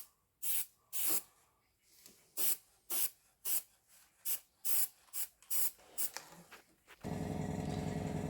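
A spray gun sprays paint onto a model of HMS Queen Elizabeth in a run of short hissing bursts of irregular length, close and fairly loud, giving way to a steady continuous hiss at the end.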